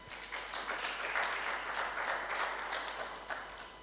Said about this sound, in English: that requires a much bigger hand clap to God